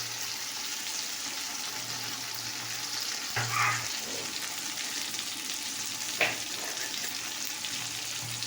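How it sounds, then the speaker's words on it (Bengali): Fish kalia frying in a pan gives a continuous, even sizzle, with a couple of brief louder scrapes as the pieces are stirred; no one speaks. "এটা একটা মাছের কালিয়া হচ্ছে।"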